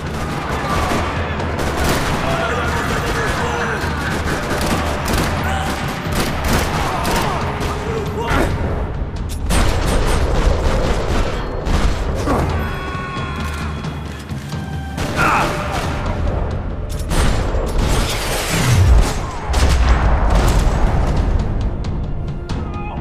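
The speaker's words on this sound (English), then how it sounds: "Another parking lot rattling with gunfire." Rapid bursts of gunfire crackle throughout a parking lot firefight in the video game Max Payne 3, with scattered single shots, metallic clatter and a few heavier impacts, dense and continuous.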